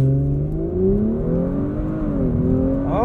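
A 2021 Audi S4 launches hard on launch control, its engine note climbing steeply through the revs in a loud rising whine, then pitching down and surging again as it shifts gear.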